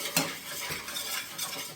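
A spoon stirs and scrapes the browned fond off the bottom of a pan of Swedish meatballs and gravy, with a few short scraping strokes over a low, steady sizzle.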